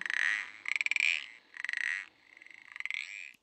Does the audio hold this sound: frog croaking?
yes